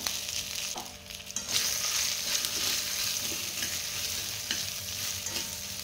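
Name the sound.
vegetables being sautéed in a pan for bharit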